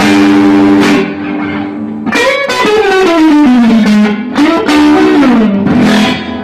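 Loud, saturated electric guitar through a restored 1965 Fender Deluxe Reverb amp on the AB763 circuit, with chord stabs and bending lead notes sustaining under heavy distortion, alone and close.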